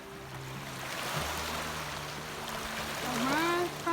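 Sea waves wash steadily onto a shore in a continuous broad rush of surf, with a low hum underneath and a brief whistling tone near the end.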